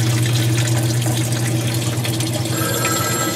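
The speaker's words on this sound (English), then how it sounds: "the washer is going to finish draining out" Continuous rushing, gurgling water with a steady low mechanical hum underneath, loud and close, as a Whirlpool washing machine drains during its spin cycle.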